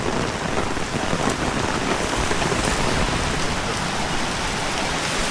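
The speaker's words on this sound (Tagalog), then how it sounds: "Ulan. Kusog. Surara na siya." Heavy rain pours steadily near a bus stop, a dense, unbroken roar of drops drumming on surfaces that holds at an even level from start to finish, with no voices over it.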